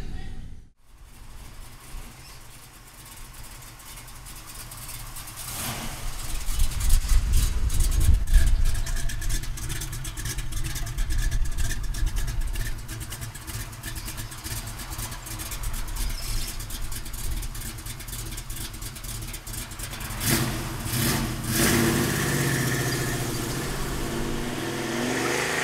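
A 1971 Chevrolet Camaro with a big-block engine and five-speed runs steadily, rising to a louder rev midway, then settling back to a rough idle, close and continuous without talk.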